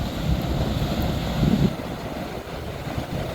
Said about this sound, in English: Both very nice waterfalls.